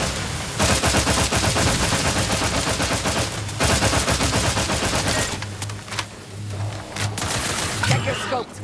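Sustained automatic gunfire in The Outer Worlds 2, loud dense rapid bursts that pause briefly and resume, then turn choppier with scattered shots and voices toward the end.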